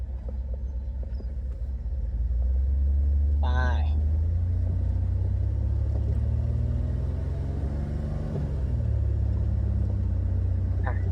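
A cheap old rocket-nose van drives along a road, its engine a steady low rumble that swells after the first couple of seconds and holds, with a brief squeal partway through.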